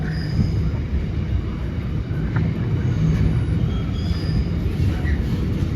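A train running on the Walsall line near Bescot gives a steady, loud low rumble of wheels and carriages that holds throughout, with faint squeal tones above it.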